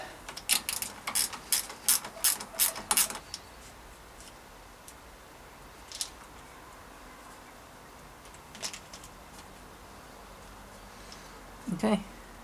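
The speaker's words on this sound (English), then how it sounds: "you just gotta literally undo the bolt on the back and feed your bridge into it" Ratcheting clicks of a tool undoing the bolt on a bicycle brake bridge while fitting SKS Bluemels mudguards, a quick burst of close rattling ticks followed by a few sparse clicks and a faint scrape.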